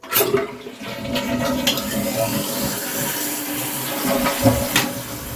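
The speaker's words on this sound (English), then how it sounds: "Okay, let's flush it." A dual flush toilet is flushed, giving a loud, close rush of water that swirls steadily for several seconds after a clunk of the handle at the start.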